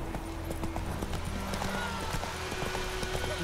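The horse Roach trotting in The Witcher 3: rapid, even hoof clip-clops close by, running steadily from start to end over a low rumbling backdrop.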